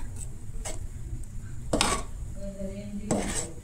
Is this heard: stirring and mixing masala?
yes